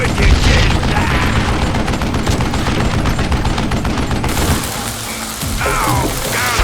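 Rapid bursts of gunfire from Call of Juarez: Gunslinger, a Western shooter, crackle loudly and densely for several seconds, then thin out after a brief lull with a few more scattered shots.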